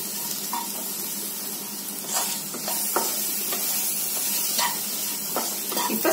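Coriander and chili powder fry in oil for a brinjal curry, a steady close sizzle broken by repeated scraping strokes of a spoon in the pan, no talking.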